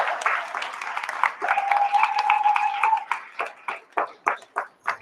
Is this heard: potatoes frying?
no